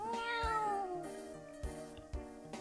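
A stray cat meows in a drawn-out, falling cry, then gives shorter calls amid soft chewing and bumping sounds while eating bread close by at someone's feet, with no talking.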